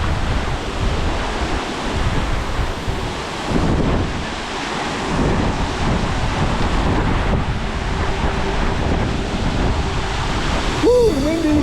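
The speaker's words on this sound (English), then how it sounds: "Woo, windy." Strong wind buffeting the microphone with a constant roar, surf-like noise underneath, and a brief exclaiming voice near the end, while backpacking near Buffalo Lake in Yellowstone National Park.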